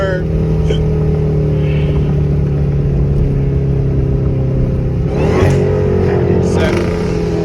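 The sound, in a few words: car with SRT badge engine revving while shifting gears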